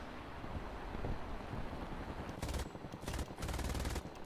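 Rapid bursts of aircraft machine gun fire from a German Luftwaffe Bf 109 fighter in War Thunder, several short loud rattling volleys over steady wind and engine rush, closely spaced toward the end.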